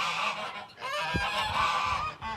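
Several geese honk noisily in overlapping calls, fairly close, on a goose farm by a lake, with a brief low thump partway through.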